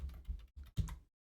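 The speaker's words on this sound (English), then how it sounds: "let me just type the whole thing" Several short bursts of keystrokes on a computer keyboard, close and fairly quiet, in three quick clusters separated by brief pauses, with no talking.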